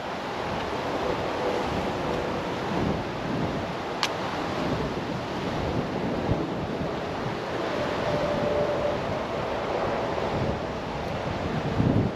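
Steady gusting wind after Hurricane Debby in The Villages, Florida, a continuous rushing roar buffeting the microphone, fairly loud and unbroken throughout with no talking.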